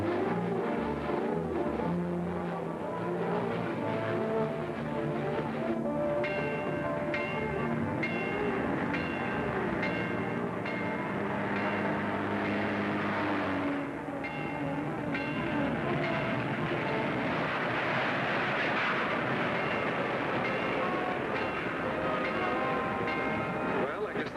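A train rolls past a railroad crossing in an old radio serial: a loud, continuous rumble with wavering tonal sounds running the whole way through, heard alone without talk.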